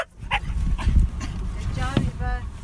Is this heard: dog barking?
yes